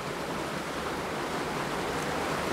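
A creek in Red Canyon flowing steadily, a dense, constant rush of water filling the whole clip with no pauses or voices.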